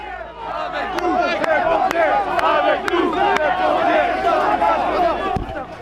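A dense protest crowd surrounds a stalled fire truck during a yellow vest demonstration, with loud continuous shouting and chanting, sharp bangs cutting through at intervals.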